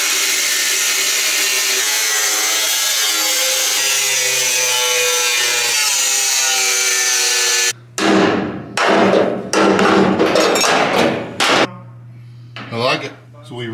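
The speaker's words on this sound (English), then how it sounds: "I'm just gonna take a grinder and I'll just cut a square." An angle grinder cuts a square hole into the metal body of a retired fire engine, a loud continuous whine for several seconds giving way to choppy bursts of cutting and scraping.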